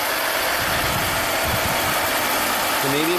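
A supercharged V6 in a 1995 Buick Riviera idles with a misfire, a steady close rumble with faint vibration running throughout and no talking over it.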